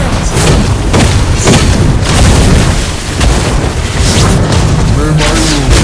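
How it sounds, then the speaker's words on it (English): Turret destroyed in the Mobile Legends mobile game: a loud, dense crumbling boom with repeated heavy impacts, layered under continuous battle effects and game announcer voices. "Your team destroyed a turret."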